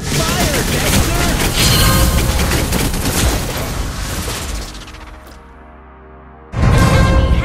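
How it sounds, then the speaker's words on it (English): Claude's skill effects firing in the mobile game Mobile Legends, a loud dense barrage of rapid shots and booms for about five seconds, a brief lull, then another burst. "Fire, Dexter!"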